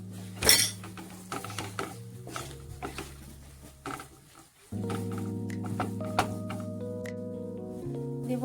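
Utensil stirring Kashmiri chili powder and ground coriander in a cooking pot for Kolkata-style mutton kosha, with scraping and clinking spikes over a steady hum of cooking.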